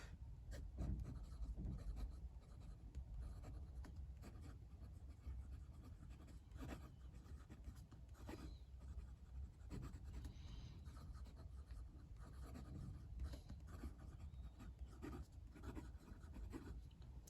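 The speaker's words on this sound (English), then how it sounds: "So, the writing experience with this pen, it's fairly smooth." A Jinhao Dadao 9019 fountain pen with a fine nib, inked with Montblanc Midnight Blue blue-black, scratches steadily across paper, a continuous close, soft scraping with small stroke-by-stroke variations and no talking.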